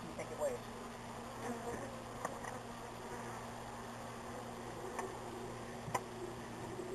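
Bees buzz during a bee removal with honeycomb, a faint steady drone with scattered louder passes and clicks close by, no talking.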